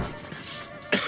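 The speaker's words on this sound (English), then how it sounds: "He's coughing up a storm." A quiet stretch gives way to a sudden, harsh cough bursting out near the end.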